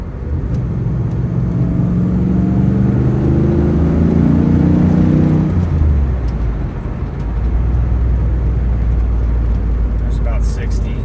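A 1993 Callaway C8 SuperNatural Camaro accelerates hard on the road, its engine roaring loud and close from inside the cabin as the pitch climbs and then drops at a shift, followed by a steady drone.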